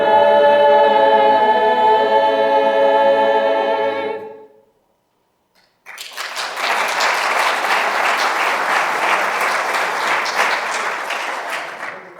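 Audience at a bicentennial opening ceremony breaks into loud, sustained applause right after the national anthem; the sung final note fades out, a short silence follows, then steady clapping fills the room.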